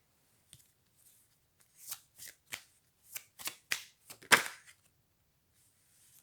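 Playing cards from a Dixit deck are handled in quick, crisp flicks and slides, a scattered run of about a dozen short papery snaps close by in an otherwise quiet room.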